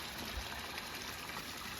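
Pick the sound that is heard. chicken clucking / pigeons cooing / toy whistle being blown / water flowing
water flowing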